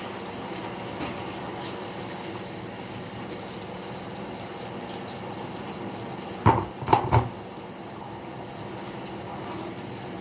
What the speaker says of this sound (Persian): آب رو اضافه میکنم من.